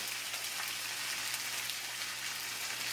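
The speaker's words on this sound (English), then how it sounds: "So I'm going to sear my meat." Steak searing in a fry pan, a dense, even hiss and crackle of hot fat that stays steady throughout, fairly quiet and close, with no speech over it.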